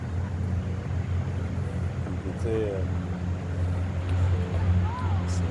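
A motorboat engine drones steadily out on the water, near and continuous throughout, with a lapping wash underneath while people chat nearby.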